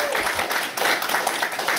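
A wrestling crowd claps steadily through a championship match between Will Ospreay and Jack Fox, a dense, even wash of applause under faint voices.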